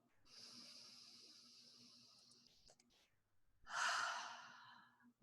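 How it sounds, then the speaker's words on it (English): A slow deep breath: a long hissing inhale of several seconds, a short pause, then a louder, fuller exhale, close and intimate with no talking. "Deep breath."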